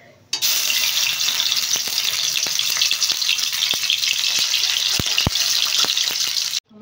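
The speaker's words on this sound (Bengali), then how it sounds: "এবার তেল দিয়ে এটাকে ভেজে নেব।" Halved boiled eggs fry in hot oil in a wok with a loud, steady sizzle that starts abruptly, broken by occasional sharp pops and spatters, then cuts off at the end.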